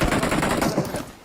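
Rapid bursts of video game gunfire rattle loudly and continuously for a moment before fading slightly, with no speech over them.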